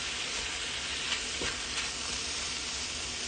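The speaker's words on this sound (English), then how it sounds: "make sure you just fry it a bit until it's all incorporated" Pancit noodles fry in a pan with a steady, soft sizzle and a few faint stirring scrapes. The sizzle is continuous, fairly quiet and close by, with no voices over it.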